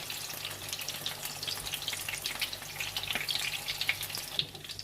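Raw minced meat kebabs fry steadily in a pan over moderate flame, a continuous close sizzle with crackling pops throughout, no voices.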